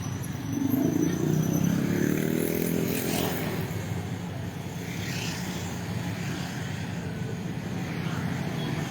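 Motorcycles and cars idle and creep through a dusk traffic jam on Jalan Toddopuli Raya, a steady nearby engine drone with one louder motorbike revving up close early on, all under a continuous street hum.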